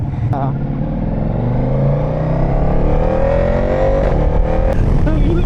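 A motorcycle engine revs up with a rising whine, loud and close, while voices talk over it.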